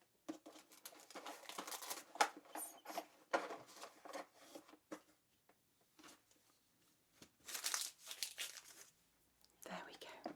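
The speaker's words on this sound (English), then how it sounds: "I'm just going to get a few things out of my kit bag, okay?" Items are rummaged out of a medical kit bag in a quiet room, with close, soft crinkling, rustling and shuffling in uneven bursts separated by short pauses.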